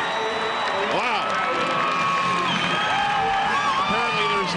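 Stadium crowd at a Major League Soccer match cheers loudly and continuously after a goal, a dense roar with whoops and shouts running throughout.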